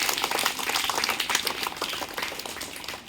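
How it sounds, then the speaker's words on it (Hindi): Applause from a school gathering welcoming a student's result, a steady dense patter of many hands clapping throughout at moderate volume. "इनके लिए जोरदार ताली से स्वागत किया जाए"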